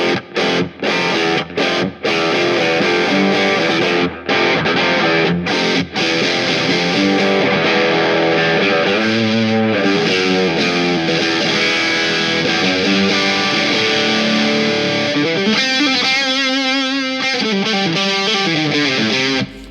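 An electric guitar plays chords and riffs through a DigiTech X-Series Hot Rod rock distortion pedal, a loud, saturated, sustained crunch with ringing harmonics and brief pauses between phrases.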